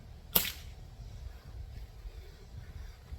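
A single sharp click from cocking a Crosman Model 101 .22 caliber pump air rifle, heard close by, followed by quiet room noise and faint handling.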